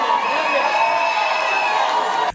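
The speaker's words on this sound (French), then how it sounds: "C'est sous les applaudissements et des cris que le président des Rajek, Jean-Claude Kimbamba," A dense crowd cheering and shouting with applause at a gathering as the president Jean-Claude Kimbamba makes his entrance, a continuous loud wall of voices and whoops that cuts off abruptly at the end.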